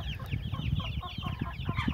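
A hen clucks repeatedly in a farmyard coop, close and fairly loud. Busy overlapping clucks and chirpy calls run in quick succession over a brief stretch, with no talking.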